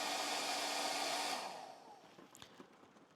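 A hair dryer running at full power blows a loud, steady rushing whir, then cuts off and winds down into quiet room noise with a few faint clicks.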